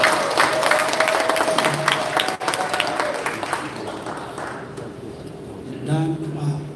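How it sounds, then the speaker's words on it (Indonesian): Applause fills a large church assembly gathering, loud and dense at first, then thinning and fading over several seconds while a voice speaks near the end. "Tepuk tangan jangan tanggung-tanggung."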